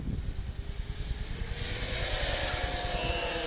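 Freewing F-16 70mm electric ducted-fan RC jet passing overhead, a steady whining rush that swells and holds loud and fairly close over low rumbling wind noise.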